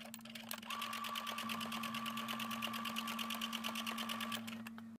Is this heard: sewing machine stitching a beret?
yes